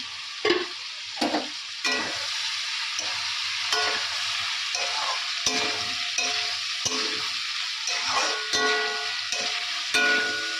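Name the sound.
soybean being sautéed in a pan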